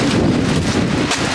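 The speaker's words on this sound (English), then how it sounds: "It's very windy." Steady, loud wind buffeting the microphone, a continuous low rumble with airy gusts throughout and no voices.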